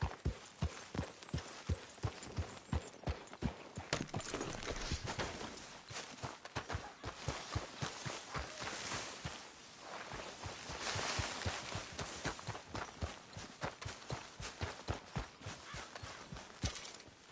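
Horse hooves clip-clop in a steady galloping rhythm across Red Dead Redemption 2 terrain, close and continuous, with a brief voice urging the horse on near the start.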